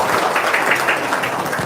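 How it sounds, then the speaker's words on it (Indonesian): Audience applause at a testimonial event, a dense, steady wash of clapping from a crowd that holds at an even, fairly loud level without breaks. "tepuk tangan semuanya buat Pak Haji Marko."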